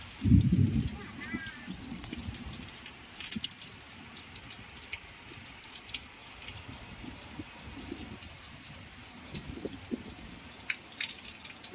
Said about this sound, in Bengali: ব্যাপক বৃষ্টি হচ্ছে